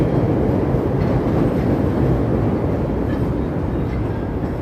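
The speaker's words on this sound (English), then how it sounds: "Here comes the train." A train rumbles past close by on a Chicago street with a dense, steady roar and rattling wheels that fade slightly toward the end.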